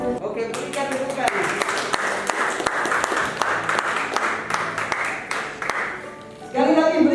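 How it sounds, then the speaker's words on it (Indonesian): Guests at a marriage registration ceremony applaud steadily for several seconds, a dense wash of clapping that fades near the end as a voice resumes speaking. "Oke, berikan tepukan."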